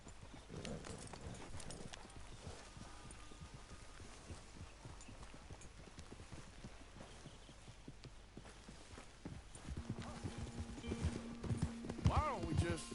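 Steady clip-clop of horse hooves walking at an even pace in the video game Red Dead Redemption, close by, with a low rumble and voices talking over the last few seconds.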